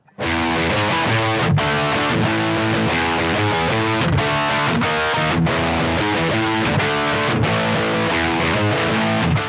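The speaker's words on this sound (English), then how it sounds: "it needs to flick over to a creamy singing distortion sound" Electric guitar through a Less Than Jake signature distortion pedal, heavily distorted chunky chords in a steady rhythm, with brief clipped pauses between strummed phrases.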